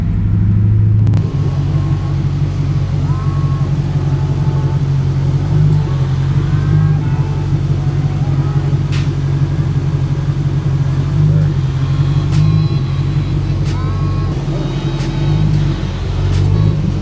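Ford Mustang drives in first gear, a steady, loud low engine rumble carrying on throughout with slight rises in revs and a few faint clicks.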